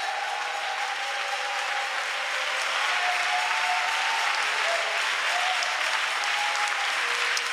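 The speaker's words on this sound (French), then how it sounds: "Applaudis très fort le Seigneur Jésus." A church seminar congregation applauds in a steady, dense wash of clapping that holds at an even level throughout. Faint voices are just audible beneath it.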